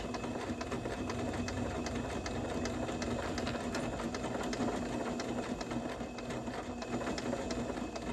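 A sewing machine runs steadily, stitching a large quilt appliqué piece about an eighth of an inch from the fabric edge, with a continuous whirring hum and fine rapid needle ticks throughout.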